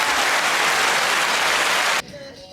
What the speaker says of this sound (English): Get that applause.